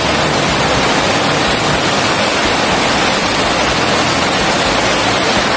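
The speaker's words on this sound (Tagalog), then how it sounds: "ang buhos ng ulan." Heavy rain pours down in a dense, constant roar of broadband hiss, loud and unbroken with no voices over it.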